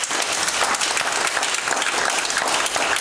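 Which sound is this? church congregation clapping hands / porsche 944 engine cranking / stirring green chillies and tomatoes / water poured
church congregation clapping hands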